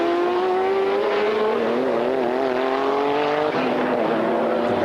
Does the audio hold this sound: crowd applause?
no